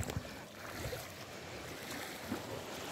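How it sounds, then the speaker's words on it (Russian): Small, gentle sea waves wash over a shallow shoal on a calm day on an Italian beach, a soft steady rush mixed with wind buffeting the microphone and no voices. "там сейчас маленькие волны. Кстати, сегодня море намного спокойнее, чем было вчера."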